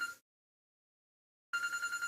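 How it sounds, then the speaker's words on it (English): Telephone ringing with an incoming call, two bursts of an electronic bell-like ring separated by a silent gap of over a second, clear and fairly close with no talking. "Alarm's going off. Actually, a phone call."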